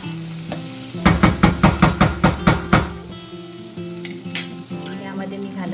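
Mung beans and potato are stirred in a frying pan, a rapid series of about ten loud scraping knocks of a spoon against the pan, then a quieter sizzle with a couple more scrapes.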